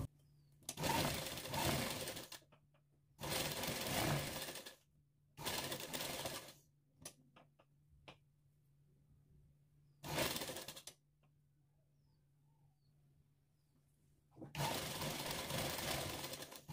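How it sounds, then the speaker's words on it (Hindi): Sewing machine stitching cloth, several loud, close bursts of rapid mechanical whirring separated by quiet pauses, with a faint steady hum beneath. "अब इसको पलटना है, सीधी साइड करना है। पलटने के बाद इस पर सिलाई लगाना है।"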